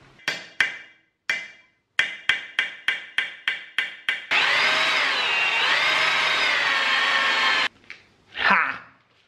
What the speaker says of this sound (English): I think we drill them out.